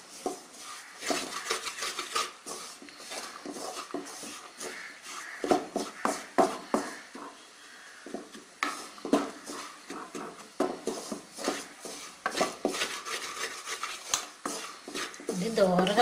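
Gram flour frying in ghee and being stirred in a pan for a sweet, with repeated scraping and clinking of a utensil against the pan under steady talk.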